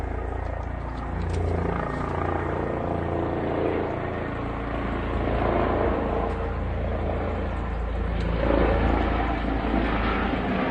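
A steady, rumbling helicopter drones overhead throughout, a continuous low roar with broadband whooshing that swells slightly toward the end.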